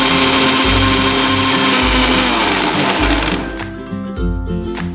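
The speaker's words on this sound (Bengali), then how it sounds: "মিক্সিটা এবার চালিয়ে দেব।" An electric mixer grinder whirs loudly and steadily while it grinds soaked poppy seeds with chopped green chillies and water, its motor pulsing in rhythmic surges before winding down.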